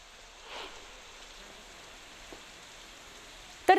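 Heavy monsoon rain pours over a dam catchment as a steady, soft wash of noise, with a brief knock near the end.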